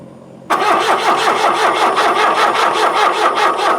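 A car engine cranks and catches abruptly, then holds a loud, even, rhythmic churn close by, following a quiet moment of low background hum.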